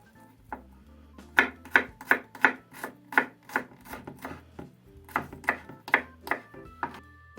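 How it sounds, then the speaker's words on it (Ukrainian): A knife taps rapidly on a cutting board in quick bursts of finely chopping garlic, with a short pause between runs, close and crisp. "Та дрібненько нарізаю часник."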